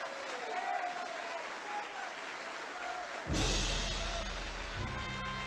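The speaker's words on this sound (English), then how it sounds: "Let us bring him on with a round of applause." A crowd breaks into applause to welcome a speaker onto a stage, a sudden loud burst of clapping that follows a few seconds of quieter talk.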